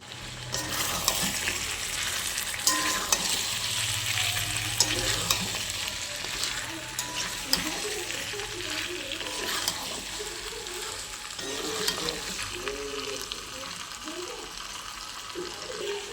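Desi chicken curry stir-fried in a pan sizzles steadily up close, with continuous scraping and stirring and a faint voice underneath in the later part.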